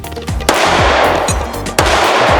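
A Glock 20 pistol fired at close range, two loud sharp reports about a second apart, each followed by a booming ringing tail of echo.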